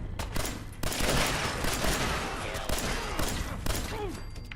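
Bursts of gunfire in the Fallout 4 video game, loud and close, with sharp repeated shots over a dense roar of combat effects.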